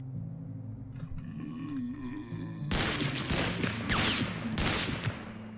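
Several loud gunshots in the game T.A.B.Z. fire in quick succession over a low droning, growling background, each shot a sharp crack.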